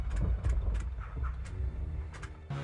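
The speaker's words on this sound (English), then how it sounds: "Uh-oh, I think the car's cutting out." A flying car's engine sputters and cuts out in the Harry Potter and the Chamber of Secrets PC game, uneven rumbling with brief bursts and stutters before a final clunk.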